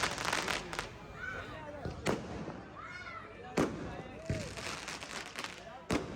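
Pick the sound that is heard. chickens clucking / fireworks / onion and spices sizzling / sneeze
fireworks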